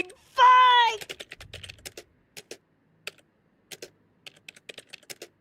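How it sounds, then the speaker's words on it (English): Soft clicks of a non-mechanical membrane keyboard come in short bursts and scattered single keystrokes, close and quiet, after a brief tonal game sound at the start. "it's even the sound of a non-mechanical keyboard"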